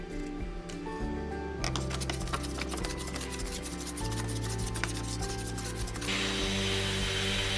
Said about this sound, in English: I decided to pull out my number 7 jointer plane and knock off the high spots on the top and bottom face